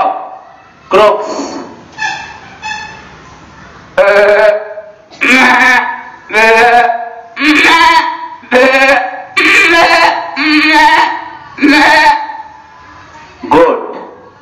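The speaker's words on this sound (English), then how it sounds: "Goat, bleats." A run of goat bleats, several loud harmonic calls in quick succession with brief gaps, close and clear with no talking.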